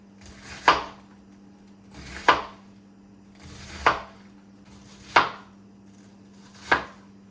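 A knife slices through cabbage for coleslaw on a cutting board: five crisp, evenly spaced chops about every one and a half seconds, close and clear, with no talking.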